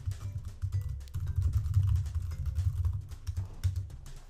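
Someone types steadily on a computer keyboard close by, producing a continuous run of soft key clicks with no talking.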